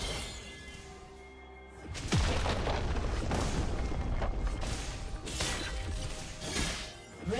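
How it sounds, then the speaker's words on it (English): A turret being destroyed in League of Legends: a heavy crashing boom with shattering debris that hits hard after a quieter stretch, followed by a sustained rumbling crunch and a further loud burst near the end, with no speech. "Red team's turret has been destroyed."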